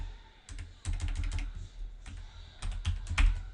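Rapid clicking of keys on a computer keyboard, close and distinct, coming in two bursts with a short lull between them and no talking.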